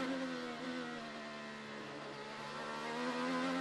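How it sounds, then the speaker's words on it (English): An IndyCar Honda-powered race car at the Detroit Grand Prix coasts into a braking zone, a steady, faint engine whine that holds a sustained tone with slight pitch drift and no talk over it. "you're going to hear Dixon just coast it in the brake zone"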